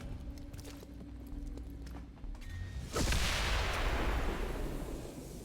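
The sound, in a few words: explosion in the video game Long War of the Chosen (XCOM 2)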